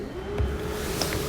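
A 2022 Jayco North Point 340CKTS fifth-wheel RV furnace runs below the floor, giving a brief, steady blower hum with a faint constant whine over soft airy hiss.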